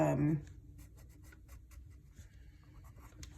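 A graphite pencil shades a value sketch on paper with soft, repeated scratchy strokes, faint and close, after a brief voice at the start.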